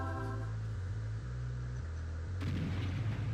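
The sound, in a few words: artillery fire in a real-time strategy video game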